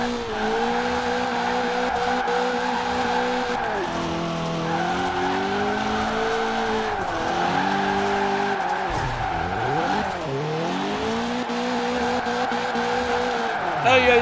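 A car drifts in Forza Horizon 4 with continuous tire skidding and squealing over a droning engine whose pitch bends and wavers through the slides, while voices talk now and then.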